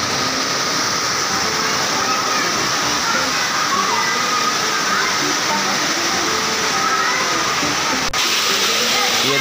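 Kiwai Waterfall near Naran Kaghan roars in a steady, dense rush of falling and flowing water, loud and close throughout with no break in the torrent.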